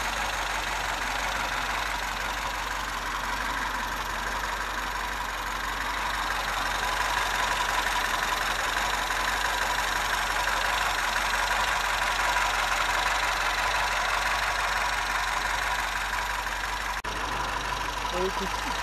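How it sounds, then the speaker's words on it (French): A 1966 MG B engine with twin SU carburettors idles steadily, a smooth continuous low rumble with broadband hiss, constant in level throughout and without speech. "les deux carburateurs SU qui tournent tranquillement"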